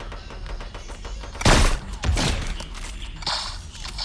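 A single sharp sniper rifle shot in a first-person shooter game cracks loudly midway, followed by a second thump and softer game noise.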